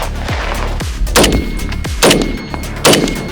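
Repeated gunshots fire in an irregular sequence during a shooting drill, sharp loud cracks arriving about every half second to second with brief gaps between bursts.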